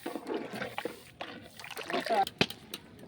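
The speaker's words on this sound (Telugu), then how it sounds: "చూడండి ఫ్రెండ్స్ కుతకుతలాడుతుంది" A big pot of chicken curry for a feast, about 15 kg, bubbles and sloshes in irregular soft plops and splatters, fairly quiet, while someone talks nearby.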